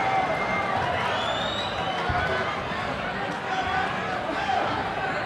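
A large crowd at a boxing event at the Quiet Cannon in Montebello roars and cheers continuously, a dense wash of noise that masks any single voice.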